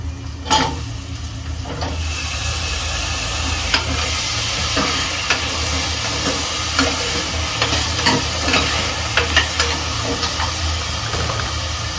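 Chopped radish and tomato stirred and frying in a pan with salt, a steady sizzle running throughout with occasional scraping clicks of the spoon, close and moderately loud, no talking.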